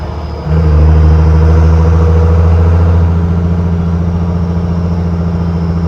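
A first-generation Cummins diesel truck fitted with an exhaust stack drones close by. Its engine note jumps suddenly, then holds a heavy, steady rumble that eases slightly as it settles into the lower gear.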